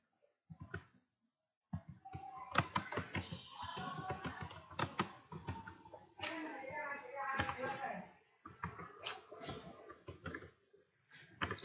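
Typing on a computer keyboard in Microsoft Word, entering Bengali text: clusters of quick, close key taps in uneven bursts, broken by pauses, with someone talking alongside.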